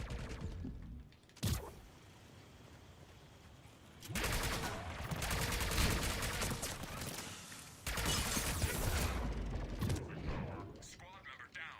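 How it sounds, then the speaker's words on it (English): Gunfire in Mass Effect 3 multiplayer comes in bursts of rapid automatic shots, with a sharp single crack early and two long sustained volleys later, fairly close and loud over game ambience. "Who's shooting me?"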